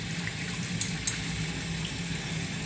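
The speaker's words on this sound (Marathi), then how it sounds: "आपण डाळ स्वच्छ धुवून घेऊन या दोन पाण्याने स्वच्छ धुया" Split chana dal being rinsed in water in a kitchen sink, a steady splashing and running-water wash, close and moderately quiet, with no talking.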